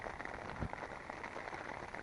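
Rain patters on a tent pitched on Ireby Fell in cold snowy February weather, a faint, even hiss of drops close by with no voices.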